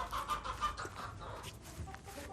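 Backyard chickens on a Tennessee homestead cluck quietly, with soft repeated calls that sound somewhat distant and low in level.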